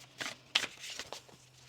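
Tarot cards are shuffled in a few quick, soft riffling bursts, close and quiet, with brief pauses between them.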